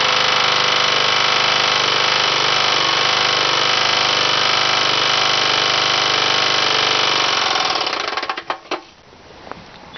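A Briggs engine fitted with a balsa piston runs loud and steady, with a screw head on the piston striking the cylinder head, a harsh rapid clatter for about eight seconds before it cuts out and spins down with a few knocks.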